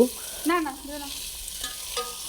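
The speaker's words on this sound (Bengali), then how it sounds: "তারপর হচ্ছে ভালোভাবে নেড়ে নিচ্ছি" Vegetable khichuri made with leftover rice, winter vegetables, chopped onion and tomato is stirred in a pan, with a few close ringing spoon scrapes over a quiet sizzle.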